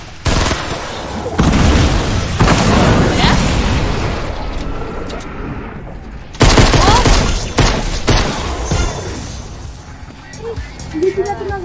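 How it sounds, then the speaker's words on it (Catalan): Fortnite gameplay brings a dense, loud barrage of game gunfire and booming blasts, including a grenade explosion, in two sustained waves with a sharp onset midway, while players talk over the noise. "Li he tirat una granada a punt."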